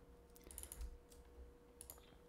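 Faint, scattered clicks and taps from someone playing a mobile game. A few light presses come in small clusters at low volume, and nobody speaks.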